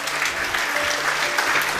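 A church congregation applauding during a sermon, steady dense clapping from a large crowd filling the room, with a faint voice and tonal hum underneath.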